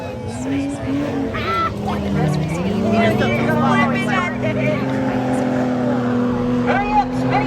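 Race cars roar around the oval at Hendry County Speedway during a night of destruction event, a steady engine drone with shifting pitch, mixed with crowd chatter and nearby voices talking throughout.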